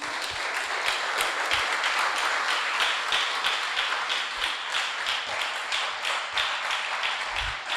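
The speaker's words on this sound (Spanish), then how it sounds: "Dele palmas al Rey esta noche." A church congregation applauds at an evening service, steady dense clapping from many hands throughout, sustained and fairly even in loudness with no voices standing out.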